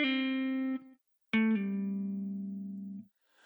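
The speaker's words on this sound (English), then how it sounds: "with a pull-off, you start with the higher note, then pull your finger off the string to sound the lower note" Two sustained electric guitar notes played as pull-offs, each starting on a higher pitch and dropping to a lower one, in a blues context, heard clean and alone with a short gap between them.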